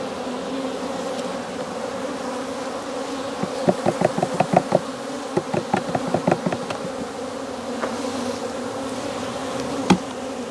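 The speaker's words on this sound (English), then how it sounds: "lots of bees" Bees buzz steadily throughout during a hive inspection, with a burst of sharp rhythmic tapping or clicking in the middle and a single click near the end.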